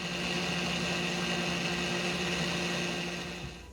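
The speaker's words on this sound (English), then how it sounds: "Now I'm going to blend this together" A blender whirs steadily, blending plantain with evaporated milk, a loud continuous motor drone that holds throughout before easing off near the end.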